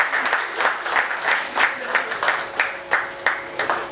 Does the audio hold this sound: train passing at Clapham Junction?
no